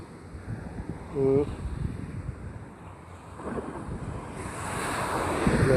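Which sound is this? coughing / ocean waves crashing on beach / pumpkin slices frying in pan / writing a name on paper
ocean waves crashing on beach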